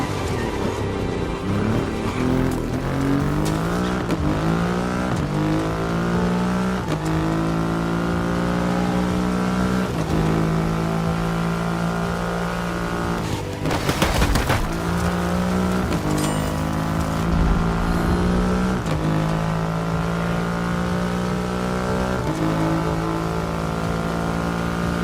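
A Triumph Rocket 3 motorcycle with a 2.5-liter engine revs up repeatedly, its pitch climbing and settling through several loud, close accelerations with a sharp burst midway, with no talk.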